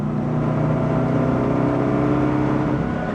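A cheap Volvo rally car cruises on a highway with a rough-running engine, giving a steady, loud droning hum with road noise and no voices.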